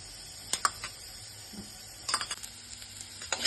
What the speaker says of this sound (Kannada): ನೋಡಿ, ಅದಕ್ಕೆ 1-2 ಸ್ಪೂನ್ ಎಣ್ಣೆ ಹಾಕ್ಬಿಟ್ಟು ಚೆನ್ನಾಗಿ ಫ್ರೈ ಮಾಡ್ಕೊಳ್ಳಿ ಈರುಳ್ಳಿನ